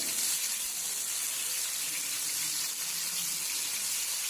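Masala-coated fish fries in a pan with a steady, close hiss of sizzling oil that holds evenly the whole time, with no voices.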